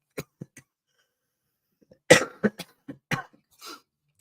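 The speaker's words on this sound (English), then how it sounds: "a cough lately" A person with a cold gives a few separate bursts of coughing and throat clearing, dry and close-up, spaced out against near silence.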